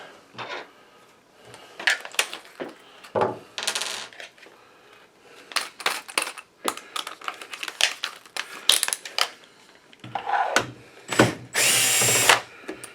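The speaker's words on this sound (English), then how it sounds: "Let's pop 1, 2, 3, 4, 5, 6 screws." A power driver whirs in short repeated bursts while removing screws from a DLP projector, with metallic clinks and rattles of parts between bursts, all close and without talk.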